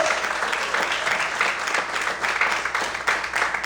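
Loud, sustained applause from a church congregation, dense clapping throughout with no pauses.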